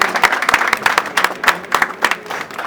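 Audience applause welcoming the multi-talented artist Solomon Teka at an award ceremony, a few seconds of steady, moderately dense clapping with rhythmic bursts, close and fairly loud, with no talk over it.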